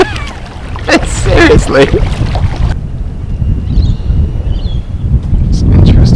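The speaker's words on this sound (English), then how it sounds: "Just so windy." Strong wind on Lake Kurwongbah while out bass fishing from a boat, a loud, constant low roar buffeting the microphone, with someone speaking briefly over it.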